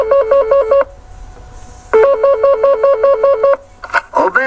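A telephone rings with repeated trilling electronic tones in two bursts before a call to a youth hostel in Carcassonne, followed by a brief pause and the start of a voice answering.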